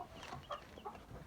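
Baby meat chicks, one of 150 in a brooder, give short high peeps and chirps in quick bursts, fairly close, with no talking.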